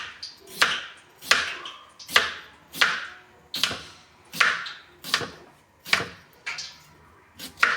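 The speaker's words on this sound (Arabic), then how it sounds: "هلا هيك عم نقطع البطاطا مثل محلات الفراريج" A knife chops potatoes into fries on a cutting board, giving about a dozen crisp, evenly spaced thuds, each a sharp close strike with a short ring. No one speaks.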